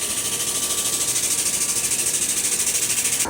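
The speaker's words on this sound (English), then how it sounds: "bending it on a Pro Tools hydraulic HT 105 bender" A Pro Tools HT 105 hydraulic bender working 1¼ inch steel tubing gives a steady, close mechanical hum with a fast, even pulsing throb running the whole time, with no voices.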